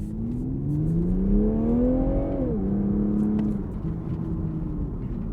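A Toyota Supra Launch Edition's exhaust revs up loudly in a rising whine, holds, then drops and settles back to a lower drone, close and without talk.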